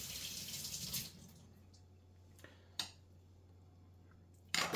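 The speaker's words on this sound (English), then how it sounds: "we wash that again under the water" An oyster is rinsed under a running kitchen tap, a soft steady rush of water with a few faint clicks and a louder splash or knock near the end, close by and with no speech.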